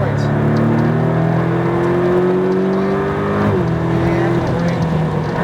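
A car accelerates hard on a race track, its engine note climbing steadily in pitch before a brief gear-change dip, loud and continuous with a driving instructor talking over it.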